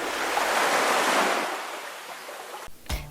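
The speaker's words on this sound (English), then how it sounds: "Ocean waves heard here are because of millions of bubbles that are crashing and breaking onto the surface." Ocean surf washing in as a broad, steady hiss of breaking waves that gradually eases, with a brief gust of wind noise near the end.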